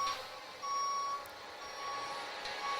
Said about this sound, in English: There's a forklift truck going over to a shipping container.